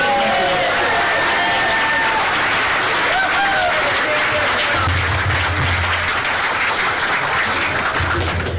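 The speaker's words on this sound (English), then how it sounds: "Give her a round of applause." An audience at a congressman's victory event claps steadily for the whole stretch, a dense, loud wash of applause with cheering voices and shouts mixed in.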